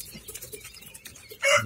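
Young poultry chicks on a small farm keeping quail and chickens cheep in soft, scattered peeps, faint and close, ending with a brief louder chirp.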